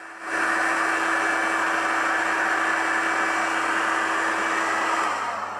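A hair dryer blows steadily to speed-dry contact glue on a leather collar, switching on after a brief pause and holding a loud, even rushing whoosh close by until the end, with no speech.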